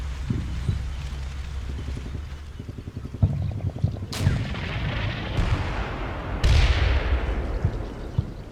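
Gunfire in the Combat Mission war game as a BMP-3 infantry fighting vehicle comes under fire, with rapid bursts of automatic shots and heavy booming impacts, several loud blasts with long rumbling tails in the second half.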